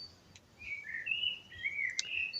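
Birds sing in a garden ringed by trees, with several bright chirps and short warbling phrases at moderate distance over a quiet background.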